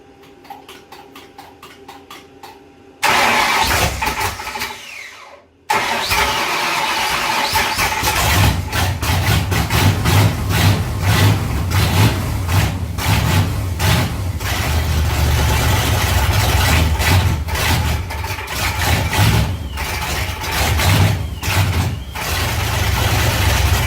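A big block V8 swapped into a Mazda Miata cranks with a starter clatter, catches on the second try and settles into a loud, lumpy, rumbling idle that runs unevenly for many seconds.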